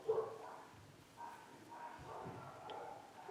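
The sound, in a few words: dogs barking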